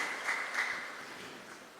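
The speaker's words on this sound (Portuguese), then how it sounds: "Uma salva de palmas para todas as nossas mulheres." A congregation applauding during a Catholic Mass in a church, soft diffuse clapping that swells briefly then fades, heard from a distance with room reverberation.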